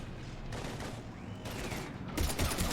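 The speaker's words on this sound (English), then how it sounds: "We're taking heavy fire." Heavy gunfire in the video game Mass Effect 3 comes as dense, loud bursts of automatic fire in several waves, with the loudest volley closing the stretch and no talking.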